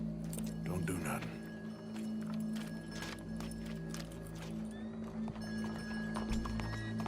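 Horse hooves clip-clop in a steady rhythm of hard knocks, mid-distance, mixed with background tones and voices talking over the scene.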